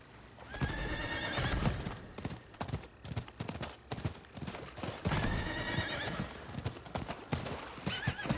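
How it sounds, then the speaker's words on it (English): Horse hooves clip-clop at a gallop with repeated whinnying and neighing in the Diablo IV video game, loud and close, with steady rhythmic hoofbeats throughout. "I wish a horse could just jump over them."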